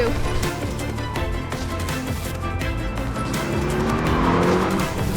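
A Porsche 911 Turbo running an autocross lap at Barber Motorsports, its engine roaring loud and continuous with rising and falling revs and tire squeal, close and dominant throughout.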